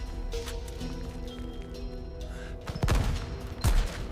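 Gunfire bursts in a World War I battle scene break through a low rumble and tonal background near the end, two heavy, close cracks of machine gun fire standing out loud over the din.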